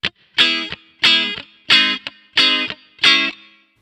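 Electric guitar run through a Line 6 Firehawk/AMPLIFi modeler with medium hall reverb, playing five loud, evenly spaced chord strums with a short pickup stab between two of them, each ringing briefly into a reverb tail.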